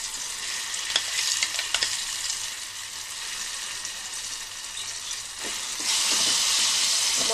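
Red chili chutney frying in hot tempering oil, a loud continuous close sizzle and hiss with stirring scrapes, swelling louder near the end, with no voices.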